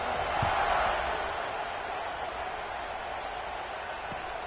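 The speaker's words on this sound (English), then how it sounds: "this crowd is buzzing after that last score" A football stadium crowd keeps up a broad, continuous buzz of noise, swelling slightly at first and then holding at a moderate, distant-sounding level.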